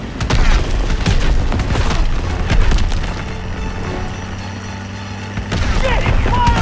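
Booming gunfire from an enemy in a video game, with loud repeated blasts over a rumbling vehicle chase, easing off midway and then returning, under excited shouting from players.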